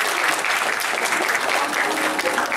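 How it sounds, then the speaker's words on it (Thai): An audience at a UNICEF Thailand press conference applauds to welcome Nichkhun's parents, with loud, dense, continuous clapping close by. "ขอเสียงปรบมือต้อนรับคุณพ่อคุณแม่ของน้องคุณ"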